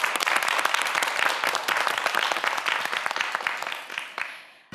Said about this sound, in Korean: 네명의 학생 모두에게 다시 한번 큰 박수 부탁드립니다